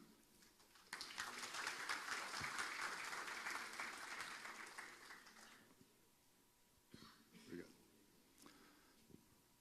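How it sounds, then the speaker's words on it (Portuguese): At a bioenergy economics seminar held by Sindenergia, the audience applauds to welcome speaker Donizete Tokarski. Clapping breaks out abruptly, holds as a full wash for several seconds, then tapers off, leaving scattered faint noises and murmurs in a quiet room. "vamos receber com uma salva de palmas nosso palestrante, Donizete Tocaro"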